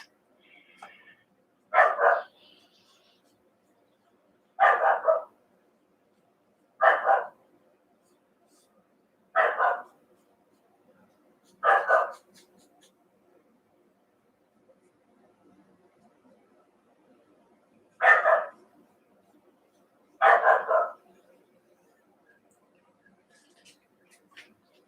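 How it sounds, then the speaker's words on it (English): A dog barking during an indoor live painting session: seven separate, moderately loud barks spaced a few seconds apart, with near-silence between them. "My dog is always barking at the same hour every day."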